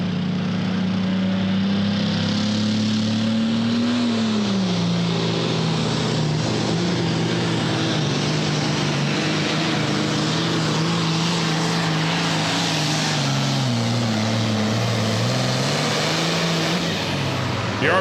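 The super farm tractor Poltergeist roars through a pull at a pro pulling event in Hillsboro, Wisconsin. The loud, sustained engine drone sags and climbs in pitch as the revs are dragged down under load.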